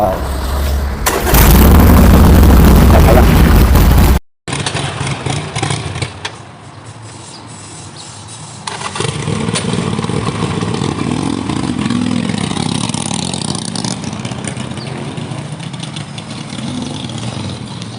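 A tuned motorcycle engine, fitted with an aftermarket ECU box and its original exhaust, roars loudly at high revs, cuts out abruptly, then settles into a steady idle with rising and falling revs.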